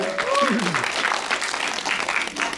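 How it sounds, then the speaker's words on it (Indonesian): An audience at a film event applauds steadily for a couple of seconds, a broad wash of clapping with a voice briefly heard at the start. "Tepuk tangan sekali lagi."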